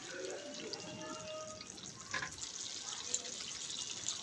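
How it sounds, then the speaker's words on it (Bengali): About half a cup of water is poured into chicken cooking in a pan, a soft, faint splashing trickle with light drips against a quiet hiss. "দিয়ে দেব আধা কাপের মতো পানি, যেন মাংসটা একটু ভালোভাবে সিদ্ধ হয়ে যায়"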